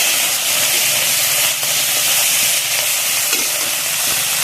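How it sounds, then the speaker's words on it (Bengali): Prawns fry in hot mustard oil in a village kitchen, giving a loud, steady hiss and sizzle that holds without a break from start to finish. "তেলটা ভালোভাবে গরম হয়ে গেছে, আগে চিংড়ি মাছগুলো ভেজে নেবো।"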